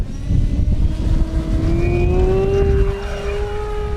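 An E-flite V1200 RC airplane powered by a 3200 pack takes off from grass, its electric motor whining loud and close, then rising steadily in pitch as it speeds away.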